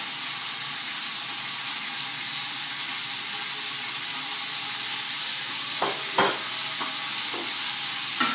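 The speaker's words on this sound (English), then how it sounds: "Throw the onion in. And the burner is on high right now." Onion and garlic hiss and crackle in a pan over a burner on high heat, a steady close sizzle for the family sauce, broken near the end by a few sharp scraping stirs.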